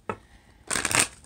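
Oracle cards from a Barbary Zodiac deck are shuffled by hand, a brief soft riffle followed by a louder, denser burst of papery flutter, close and alone without talk.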